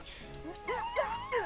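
A dog in the video game Dream Story gives short whimpering yips and a small bark, a quick run of high, close, whining cries lasting little more than a second.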